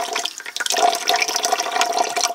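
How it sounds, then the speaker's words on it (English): Tap water pours steadily into a bath for a pet, a loud, close, continuous splashing rush with no talk over it. "I'm just going to run a little more water"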